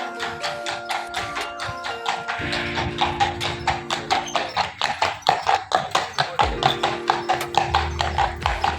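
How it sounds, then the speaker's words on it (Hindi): Hooves clip-clop in a brisk, steady rhythm as a horse-drawn carriage passes close by, with a low rolling rumble of wheels underneath. "एक और बड़ी बग्गी अभी वापस पहुँच रही है और आप ज़रा इसकी आवाज़, इसके स्टेप्स की आवाज़ सुनें"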